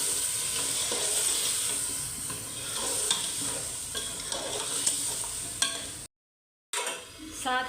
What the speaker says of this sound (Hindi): अब हम इसके अंदर टमाटर जो मैंने ग्राइंड किए हुए थे वो डालेंगे। अच्छे से मिक्स करें।